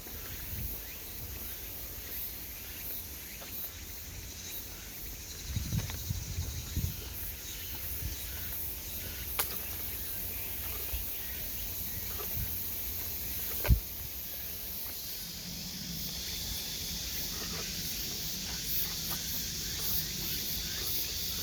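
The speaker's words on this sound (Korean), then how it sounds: "애매미 울음소리가 나 엄청 나긴 하네요" Aemaemi cicadas (Meimuna opalifera) sing outdoors on a summer day, a thin, sustained high-pitched drone carrying on throughout, fairly distant, with a few low thumps and rustles of handling nearby.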